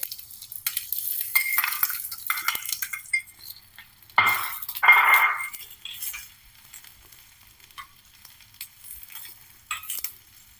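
Onions fry in ghee in a pan for a Karkidaka medicinal rice porridge, soft sizzling broken by bursts of stirring and metal utensil clinks against the pan, close and intermittent.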